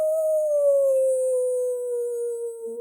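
A long mournful dog howl from a Universal horror film, one sustained wavering tone that slowly falls in pitch over a quiet background with no speech.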